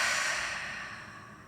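A single deep exhale during a yoga stretch session, a soft breathy rush of air close to the mic that fades gradually over about a second and a half.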